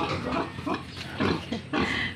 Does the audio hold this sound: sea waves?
no